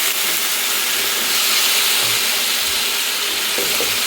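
Mushrooms fry loudly in a pan with a dense, constant sizzle and hiss that holds unbroken from start to finish, close up and with no talking.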